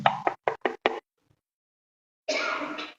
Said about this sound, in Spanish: tocan la puerta de tu casa